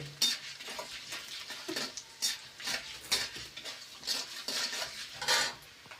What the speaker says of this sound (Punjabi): ਗੋਂਦ ਆਪਣਾ ਭੁੰਨ ਹੋ ਗਿਆ ਐਨ ਕਰਾਰਾ ਕਰ ਲਿਆ ਆਪਾਂ ਨੇ